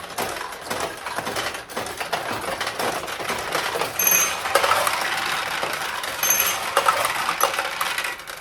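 Steel balls paying out from a restored 1972 Nishijin Model A vintage pachinko machine, a continuous close metallic rattle and clatter with small chimes over it.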